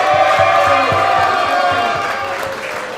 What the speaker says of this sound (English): Please give West Genesee a round of applause once again.